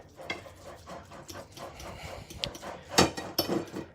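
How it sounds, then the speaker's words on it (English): Potato casserole mixed with hot sauce being stirred, with soft irregular scraping and clinking of a utensil against the dish, quiet and close, a few louder knocks near the end. "Then you want to stir it up."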